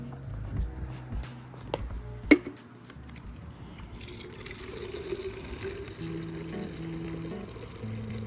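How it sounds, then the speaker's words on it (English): Water pours into a bottle for washing a 2024 Lexus IS350, a soft steady trickle and fill under outdoor background noise, with a few handling knocks and clunks early on. "let me go ahead and get it filled up with water as well"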